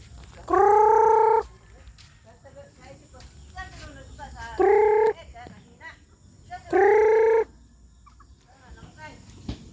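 A rooster crows three times in separate drawn-out calls, loud and close, with quieter rustling and faint voices between the crows.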